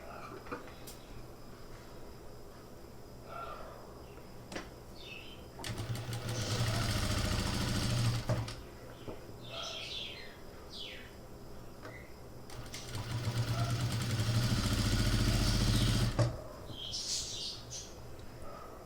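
Sewing machine stitching around the neck of a net blouse, running in two long steady bursts of rapid mechanical whirring with quieter gaps, birds chirping faintly in the background between runs.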